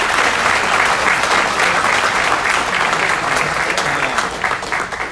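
Loud, dense applause from a crowd at the Nevada mint sesquicentennial celebration, a full roar of clapping that holds steady and starts to fade in the last moment.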